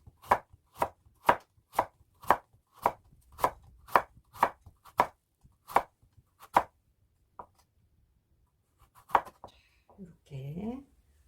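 A knife chops radish into thin 0.2 cm slices on a cutting board, about a dozen crisp, evenly spaced cuts, then a pause, a single stroke and a brief bit of talk.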